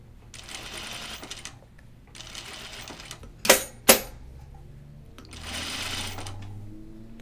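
A sewing machine runs a French seam in three separate bursts of steady, close-up motor whirring and needle chatter, with two sharp clicks between the second and third bursts.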